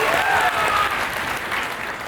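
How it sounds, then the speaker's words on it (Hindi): An audience at a political party meeting applauds loudly and continuously, a dense burst of clapping that tapers slightly toward the end, with faint crowd voices underneath. "आप देखिए लोग कितना जोर से ताली बजा रहा है, जोर से बजाइए एक बार फिर से"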